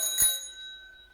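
A single crisp ring from a small bell on a restored East Van bicycle rings out close and alone, then fades into a sustained metallic shimmer.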